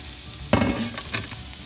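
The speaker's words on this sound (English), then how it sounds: "So I am dumping our onion and scallion. You can hear the oil sizzling." Chopped onion and scallion hit heated oil with a sudden loud sizzle that settles into a steady crackling fry, close up and without talk.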